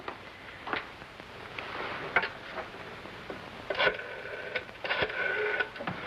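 A telephone being dialed in an old radio drama, with sparse mechanical clicks and whirring rotary-dial ticks coming in short bursts, faint and close, with no talk over them.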